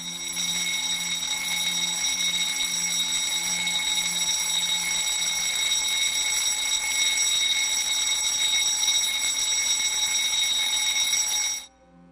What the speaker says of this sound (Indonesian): Bunyi bel alarm fire aja terpesona.